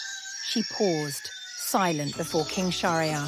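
A rooster crows several times in drawn-out, bending calls, fairly close, while someone narrates over it.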